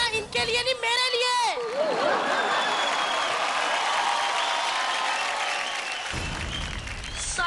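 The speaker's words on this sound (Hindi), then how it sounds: "जोरदार तालियां इनके लिए नहीं, मेरे लिए" A studio audience at a kids' dance competition stage show bursts into sustained loud applause, a dense wash of clapping with voices calling out over it before it tapers off.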